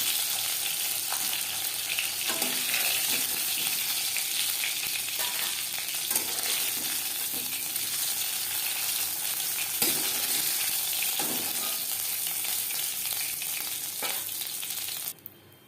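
Shing fish frying in hot oil, a steady close sizzle with scattered pops and light stirring scrapes that runs unbroken and cuts off sharply at the end, with no voices.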